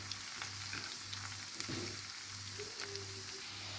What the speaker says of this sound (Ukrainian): Якщо я помічаю, що з однієї сторони котлетка вже підсмажилася, то за допомогою вилочки я її перевертаю на іншу сторону.